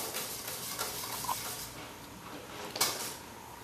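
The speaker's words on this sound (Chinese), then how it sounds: "煮的时候哈，一定要不停的搅拌。" Milky cream filling for Taiwanese red bean cakes is stirred steadily in a pot as it cooks, giving a soft continuous scraping and sloshing with a gentle sizzle, plus a couple of brief utensil clinks.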